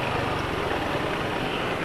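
A scooter engine runs just after a drain and refill with Delvac 1 oil, giving a steady, even idle drone with a faint rhythmic pulse and no talking.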